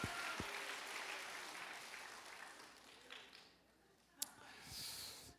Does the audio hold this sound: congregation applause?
yes